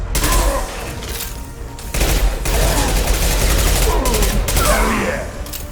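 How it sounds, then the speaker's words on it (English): Heavy gunfire in a Mass Effect 2 firefight, loud overlapping volleys with sharp impact bursts and brief pauses between salvos, a voice shouting over the shooting. "Firing an impact shot!"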